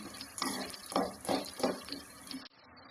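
Spices sizzling in hot oil for millimekar masala curry, with a steady frying hiss broken by several stirring scrapes, close and moderately loud before cutting off near the end.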